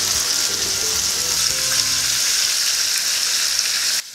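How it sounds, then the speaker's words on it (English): Floured fish frying in hot oil gives a loud, steady, close sizzle with a crackling hiss throughout and a few low clinks early on, with no voices. "placed it in the hot oil. I will fry or cook until the bottom is golden brown"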